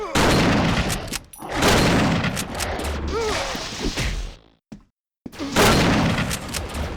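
Shotgun blasts from a first-person shooter game, several loud broadband bursts in quick succession with a brief silent gap near the end before firing resumes.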